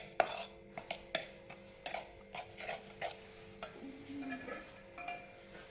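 Cupcake batter being mixed with milk in a bowl, a series of soft rhythmic clinks and scrapes from stirring, faint and close.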